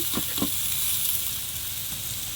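Bitter gourd hits very hot oil with onion in a kadai, giving a loud, dense sizzle throughout, with a couple of brief spatter bursts near the start.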